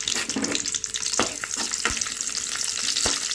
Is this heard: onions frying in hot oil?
yes